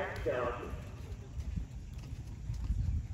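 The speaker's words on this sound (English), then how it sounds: "Lovely hand gallop." A horse hand-galloping at a pony horse show, soft rhythmic hoofbeats on the ground heard at a distance, with spectators talking over them.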